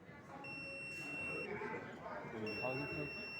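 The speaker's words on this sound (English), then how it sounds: "if anyone try to steal our bike, so it will detect and it will give alarm" An Arduino-based anti-theft bike alarm with an ultrasonic sensor sounds two steady high-pitched beeping tones, each about a second long, over a busy room of overlapping voices.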